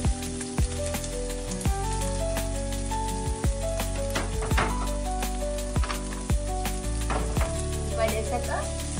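Green chillies and then onions sizzle steadily as they fry in a hot pan, with a continuous crackle and intermittent stirring scrapes throughout.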